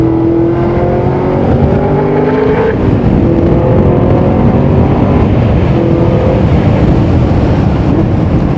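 Modified 835 hp Cadillac CT5-V Blackwing with a 6-speed manual lapping a race track, engine roaring steadily from inside the cabin with rising tones through the gears and heavy road rumble beneath.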